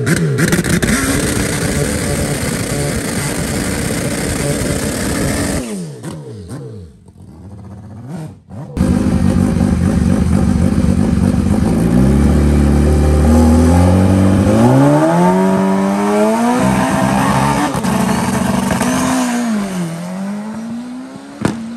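A Kawasaki H2 sport motorcycle launches down a drag strip at the Velopark, its engine screaming loud and close through rising gear changes, with a brief dropout mid-run before roaring on.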